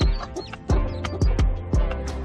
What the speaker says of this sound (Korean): 두 마리의 백봉이들은 둘 다 병아리들에게 자신의 둥지에 오라고 소리 지르기 시작한다